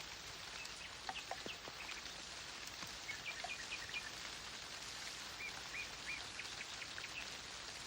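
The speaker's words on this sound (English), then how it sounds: "Nightingales." Nightingales sing in short, faint, repeated phrases over a steady wash of falling rain, the birdsong distant and partly masked by the hiss.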